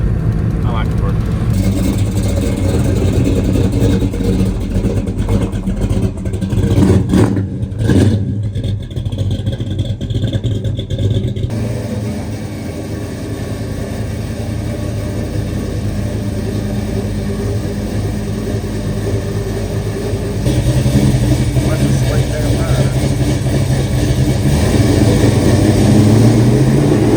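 A high school drag car built in a Ford versus Chevy build-off revs its engine through mufflers in a steady, loud rumble that swells near the end, with people talking over it.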